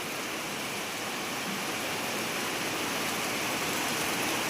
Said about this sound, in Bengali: আর কি জোরে বৃষ্টি হচ্ছে দেখো, চারিদিকে শুধু জল আর জল।